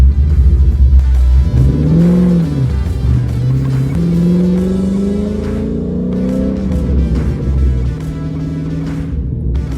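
Car with a freshly rebuilt engine, after a blown head gasket, driving and revving from inside the cabin, loud and close, the engine note swooping up and down through several gear-like rises over a constant rumble.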